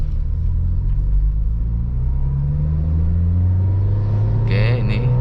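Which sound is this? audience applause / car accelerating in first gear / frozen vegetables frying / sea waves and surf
car accelerating in first gear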